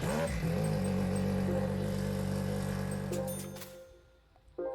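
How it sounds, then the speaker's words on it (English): An Audi R10 TDI race car engine in Gran Turismo 5, a steady droning diesel hum that holds through a rev change, then cuts out abruptly near the end before briefly returning. "I'm going to try out the R10 TDI, the regular one."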